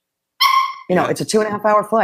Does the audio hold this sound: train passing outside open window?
no